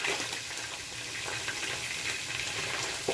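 Onions fry in mackerel oil with a dense, steady sizzle and crackle that holds evenly throughout, close and fairly loud with no voices.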